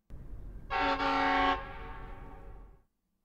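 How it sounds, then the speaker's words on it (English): A train sounds one sustained, loud horn blast over a low rumble; the rumble carries on after the horn stops and then fades away. "We hear a train."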